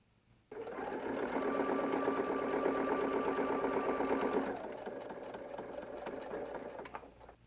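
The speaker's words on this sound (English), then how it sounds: "we'll again top stitch 1/8 inch away from the edge of the fabric" A sewing machine runs close and loud, top-stitching fabric 1/8 inch from the edge while making a quilted dumpling bag. The whir is steady for about four seconds, then drops to a softer running tone and ends with a click.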